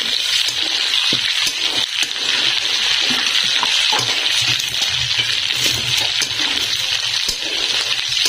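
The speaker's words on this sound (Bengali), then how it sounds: "এবার জিরে, গরম মশলা। মশলাগুলি ভালো করে নাড়িয়ে নেব।" Cumin and garam masala with dried red chilli stirred in hot oil in a frying pan, a steady loud sizzle and crackle with scraping spoon strokes throughout, no voices.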